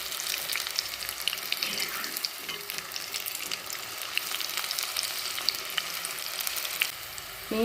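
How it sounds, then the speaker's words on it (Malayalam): Taro stems fry in hot oil, a steady dense crackling sizzle running throughout with small pops and spits, loud and close with no voices. "നമുക്കിനി ഓരോന്നായിട്ട് ഫ്രൈ ചെയ്തെടുക്കാം."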